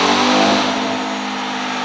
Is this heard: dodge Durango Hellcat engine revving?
yes